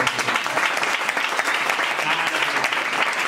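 Studio audience applause on a Spanish television talk show, a dense, even wash of many clapping hands, steady and fairly close throughout, with faint voices mixed underneath.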